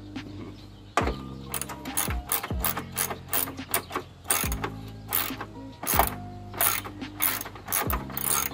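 A socket ratchet turning bolts on a 2010 Honda Odyssey during transmission module removal, sharp close clicking bursts in quick rhythmic runs, separated by short pauses and clunks, with no talk.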